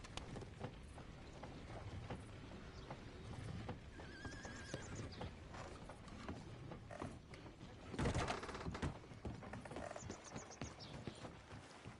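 In the western game Red Dead Redemption 2, horses whinny and neigh several times over the clip-clop of hooves, with a louder burst of movement partway through and quiet ambience between.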